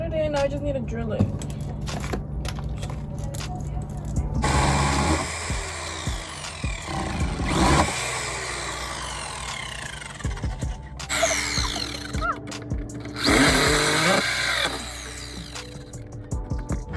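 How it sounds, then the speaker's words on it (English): Power drill boring holes to fit a street aero diffuser onto a Nissan 350Z, in loud whirring bursts that start and stop several times, with talking and handling noises between them. "I got it in, now I just need to drill it."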